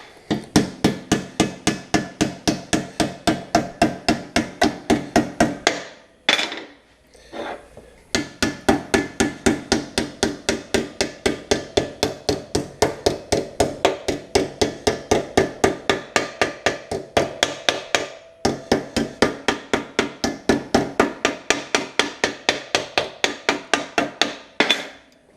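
Hammer bending a sheet metal flange on a door bottom, loud close steady rhythm of sharp metallic strikes in long runs, with brief pauses and a shift in ringing pitch.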